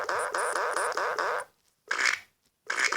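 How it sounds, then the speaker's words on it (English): A long, buzzing fart lasts about a second and a half, followed by two shorter bursts after brief silences, all close and fairly loud. "Girl fart."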